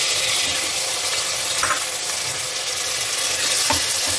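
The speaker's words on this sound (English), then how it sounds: "While my tomatoes are sauteing and cooking" Chopped tomato sautéing in a pan for a Chettinad mutton masala, a continuous loud sizzle with a few faint stirring clicks, close and steady, no voices.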